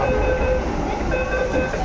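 A Bangalore metro train runs with a steady loud rumble and rolling hum, heard close from inside or beside the car, continuous over the short stretch.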